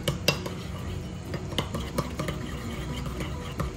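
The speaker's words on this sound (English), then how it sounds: "Stir it." A spoon stirs a homemade dipping sauce with squeezed lemon juice in a bowl, made for air-fried zucchini, giving a run of quick, close clinks and scrapes against the bowl at moderate loudness.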